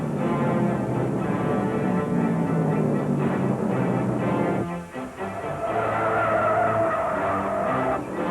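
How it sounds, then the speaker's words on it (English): A race car spins in oil at the 1971 NASCAR Late Model Sportsman 250 at Ontario Motor Speedway, its tires skidding in a long, loud, rough roar that dips briefly midway and then surges again, with no voices. "One car blows, another spins in the oil"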